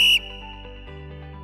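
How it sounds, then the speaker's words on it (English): Referee's whistle at a soccer game, one short sharp shrill blast, close and clear, then quickly dropping to a faint tonal ring. "I then watched as the referee blew his whistle."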